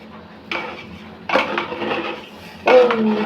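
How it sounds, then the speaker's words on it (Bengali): Rice for pulao being stirred in a cooking pot with fried dry fruits, three bursts of scraping and clattering of a utensil against the pot, close and fairly loud. "এবার ভালো করে নাড়বে"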